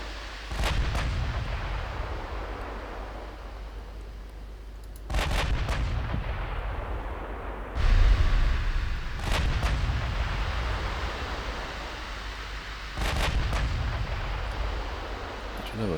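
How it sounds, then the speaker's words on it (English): Warship turrets in the naval game Ultimate Admiral Dreadnoughts fire four heavy booming salvos at uneven intervals, each a deep blast that rolls off into a long rumbling decay. "Let's get all those turrets firing."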